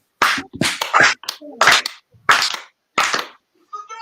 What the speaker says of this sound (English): How many claps? 5.